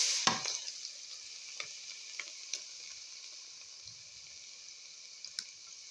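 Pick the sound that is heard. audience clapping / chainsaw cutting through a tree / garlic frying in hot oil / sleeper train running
garlic frying in hot oil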